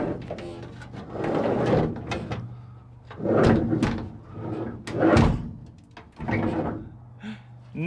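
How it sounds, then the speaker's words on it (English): A camper van door on an old Westfalia pop-top is pushed and knocked repeatedly against an interior countertop, giving several close, hollow thuds and scrapes in uneven bursts. "will the door shut without hitting the countertop?"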